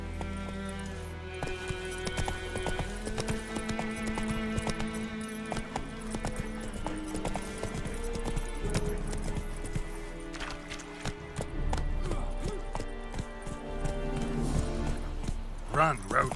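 Roach, Geralt's horse in The Witcher 3: Wild Hunt, galloping with a continuous rhythmic clip-clop of hooves under game music, alongside a voice.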